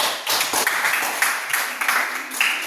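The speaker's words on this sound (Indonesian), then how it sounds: "Tepuk tangan buat kelompok 2" A classroom of students claps for a group after its presentation, a close, steady burst of many hands applauding together for a few seconds.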